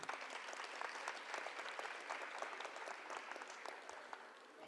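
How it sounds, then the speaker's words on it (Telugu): Audience applauding for the mothers at a school music fete, a dense, steady wash of many hands clapping that holds at an even level throughout with no voices over it. "ఒక్కసారిగా అమ్మలందరికీ క్లాప్స్ కొట్టండి."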